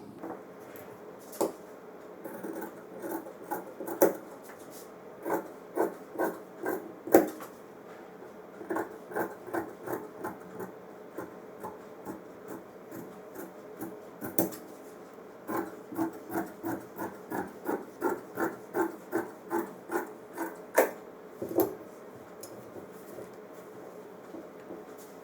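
Scissors cut through fabric for the front panel of a tight-fitting kurta, a steady series of crisp snipping and rasping strokes, close and fairly quiet, with occasional short pauses between runs.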